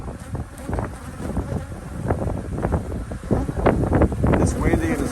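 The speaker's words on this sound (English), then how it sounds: "It's windy and it's cloudy." Wind gusts buffet the microphone at an outdoor apiary on a cloudy evening, a rough rumbling noise that swells and rises toward the end, with faint buzzing of bees mixed in.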